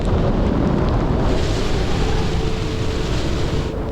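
Roaring storm-force wind gusting 50 knots and heavy rain lash steadily at sea on a sailboat, a dense continuous rush of noise with buffeting gusts against the microphone, loud and close.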